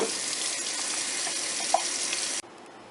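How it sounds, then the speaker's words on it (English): Tap water gushes steadily into a pot of green beans, a close, continuous splashing rush that cuts off abruptly near the end. "Okay, we've added the water"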